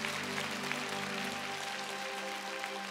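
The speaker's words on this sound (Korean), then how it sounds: "함께 격려의 박수 하도록 하겠습니다" A church congregation gives encouraging applause at a Korean evangelistic festival service, a soft, even spread of many hands clapping under a steady hum, with no talk.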